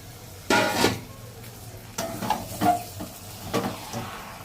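Meat stirred into hot spiced masala with bay leaf, turmeric and salt, a soft sizzle under a few distinct scraping strokes of a spoon against the pan, about four clustered bursts.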